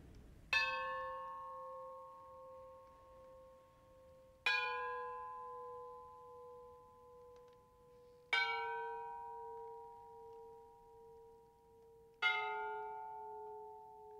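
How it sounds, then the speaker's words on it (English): A ship's bell strikes four times at even, slow intervals, each clear metallic ring decaying before the next; nothing else is heard. "Four bells rang."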